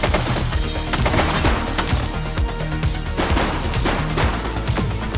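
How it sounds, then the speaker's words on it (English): Rapid, dense gunfire from a police video game set in a precinct, with overlapping shots and crashes forming a continuous loud barrage that fills the whole stretch. "She's shooting!"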